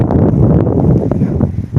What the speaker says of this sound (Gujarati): ઠંડો ઠંડો પવન આવે